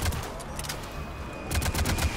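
Gunfire from the video game Mass Effect 3, a fight against husks: a steady patter of shots runs through the clip, swelling into a louder burst of rapid fire near the end, with no talk over it.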